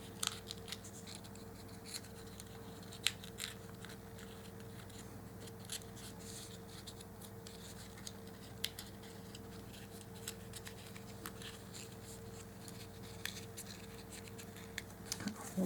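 Scissors trimming a small piece of a dollhouse miniature grocery set: faint, sparse snips and light ticks scattered over a steady low hum, close but quiet, with no talk.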